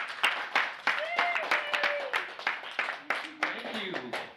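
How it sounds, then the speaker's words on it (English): A small group of people, probably children, clap for a visiting art mentor with a scattered, uneven run of claps, moderately close, while voices chatter over and around the applause. "give him a round of applause"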